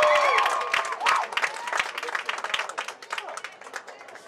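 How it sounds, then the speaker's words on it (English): A crowd in a gym gives applause and cheers for the seniors at a school senior night event, starting loud and close and tapering into scattered clapping, with voices mixed in. "another round of applause for them, please."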